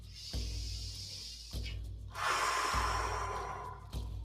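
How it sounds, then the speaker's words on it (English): Slow, audible meditative breathing, in through the nose and out through the mouth during a guided shamanic heart meditation, with soft airy breaths rising and falling over a steady low hum, fairly close and unhurried. "Make sure the breathing is obvious so you can hear the breath almost."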